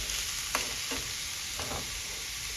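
Paneer cubes go into an oily frying pan and get stirred, giving a steady close sizzle broken by a few light spoon scrapes.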